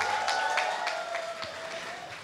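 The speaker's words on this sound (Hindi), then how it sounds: "आपके लिए एक बार जोरदार ताली होनी चाहिए" Steady applause from an audience, a continuous wash of clapping that fades slightly toward the end.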